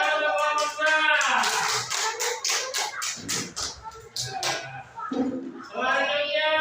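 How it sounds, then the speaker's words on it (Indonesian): Young pupils in a third-grade classroom clap for a group, giving a series of sharp, distinct claps in a rough rhythm, mixed with children's voices and chatter around them. "Tepuk tangan untuk kelompok A."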